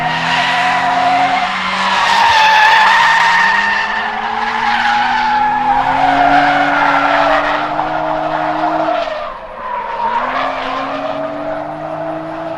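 A race car driven hard on a track, its tires squealing steadily through corner transitions over a loud, close engine note that rises and falls as the throttle is reapplied.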